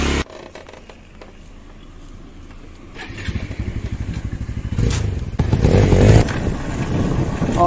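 A battered motorcycle rides over a rough dirt track, its engine rising from a quiet idle into louder revving with clatters, thumps and scraping as it bounces along.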